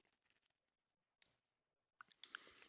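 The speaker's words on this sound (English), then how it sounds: "It's a clicky power volume knob." A clicky power and volume knob on a Midland MXMC01 radio being turned, giving a few faint, close, crisp clicks with brief handling noise in near silence.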